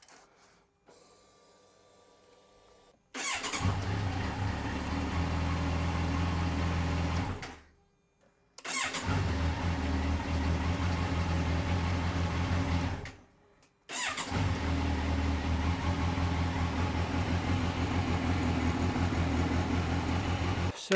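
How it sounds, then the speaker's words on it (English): A Kawasaki Versys motorcycle engine is started three times after an oil change. Each start brings a steady idle that runs for several seconds and then cuts off, with near silence between runs. "So let's open the door and let's start the engine."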